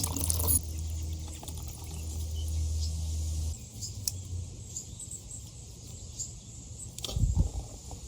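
Water streaming and splashing steadily out of a Suzuki SV650 motorcycle during a rebuild, with small clinks and a brief louder gush toward the end.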